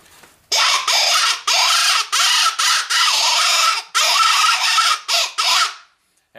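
A coyote call imitates squirrel or bird distress in loud, close, short squealing bursts, about a dozen in quick succession with brief gaps, ending abruptly.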